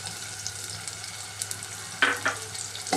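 Green chili and chopped onion fry in hot oil with a steady, close sizzle, broken by a couple of louder crackling spits.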